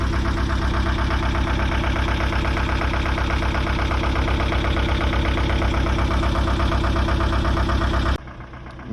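Recovery tow truck carrying a Ford Transit on its back, engine running with a steady rough mid-pitched drone close by, cutting off abruptly near the end.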